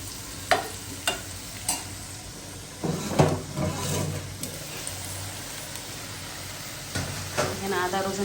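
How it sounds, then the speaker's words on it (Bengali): Potatoes frying in a little oil with turmeric and salt, a soft sizzle under scattered sharp stirring and spatula knocks, with a brief faint voice near the end. "এখন আমি আলুটা হালকা তেলে ভেজে নিব।"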